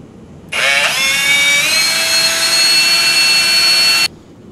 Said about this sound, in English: I have to drill this brass fitting out to a quarter inch so it's a nice tight fit